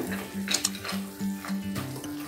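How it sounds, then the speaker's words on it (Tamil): A spoon stirs thick banana halwa with roasted cashews in a pan, making rhythmic scraping and squelching strokes with small metallic clinks over a low background hum. No one speaks. "இப்போ நம்ம வறுத்து வச்சுருக்கிற இந்த முந்திரி பருப்பை சேர்த்துக்கலாம். நல்லா இந்த மாதிரி சேர்த்து கலக்கிக்கோங்க"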